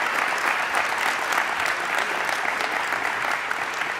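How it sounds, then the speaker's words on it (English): Crowd applause at the Ohio State Fair opening ceremony, a dense, steady wash of clapping that stays loud and even from start to finish. "Let's give him another round of applause."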